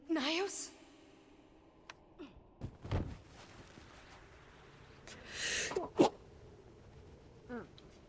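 A character in Guild Wars 2 sneezes at the entrance to Nios with one sharp burst right at the start. Scattered thuds, breaths and a quiet voice follow.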